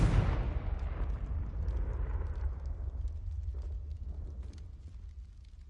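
A Confringo blast spell from a Hogwarts video game goes off as one heavy explosion with a sharp onset, then a long rumbling tail that fades over several seconds, with no voices.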